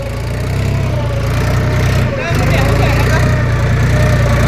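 Tractor engine running steadily as it is driven on a farm, a loud constant low drone with a brief dip midway, with faint talk underneath.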